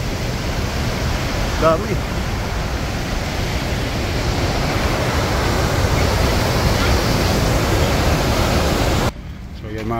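A waterfall in Spokane, Washington roars as a steady, loud broadband rush that fills the whole clip, with a brief voice near the start and an abrupt drop near the end.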